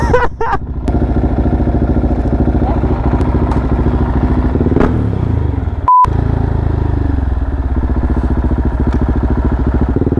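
A motorcycle engine idles and accelerates in a tunnel, droning loudly and close throughout, with a brief beep partway through.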